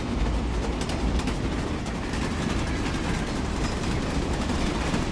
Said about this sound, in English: It sounds like a train.